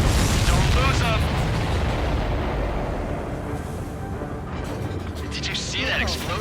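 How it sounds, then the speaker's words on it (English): A heavy explosion in the jet combat game Ace Combat 7: Skies Unknown: a loud, broad rumbling blast that slowly fades over several seconds, with jet and battle noise continuing underneath. "Did you see that explosion? Looks like that's one of them down."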